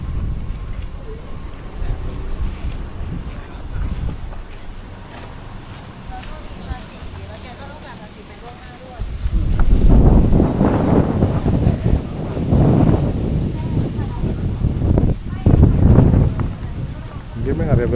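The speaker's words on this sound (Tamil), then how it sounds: "நல்லா காத்தடிக்குது." Strong wind blows outdoors near a 400-year-old temple, heavy rumbling gusts buffet the microphone, building to a louder roar partway through, while a person talks beneath it.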